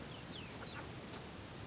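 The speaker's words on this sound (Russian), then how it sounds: "тут у нас три курочки одновременно" Soft, low clucking from three hens sharing one nest, close by, with faint chirpy calls over a steady background hum.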